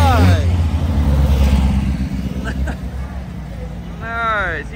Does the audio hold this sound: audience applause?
no